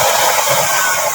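A blower forces air into the flame of a homemade used-oil burner stove, making a loud, continuous roaring whoosh with a steady, unbroken tone.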